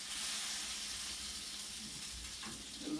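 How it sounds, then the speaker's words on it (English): Steak sizzles steadily in a hot pan, a soft, continuous frying hiss with no talking. "We're getting a good sizzle on that."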